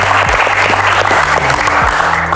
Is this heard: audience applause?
yes